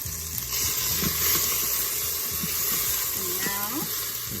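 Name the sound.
food sauteing in a pan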